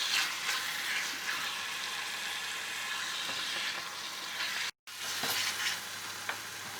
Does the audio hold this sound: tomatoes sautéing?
yes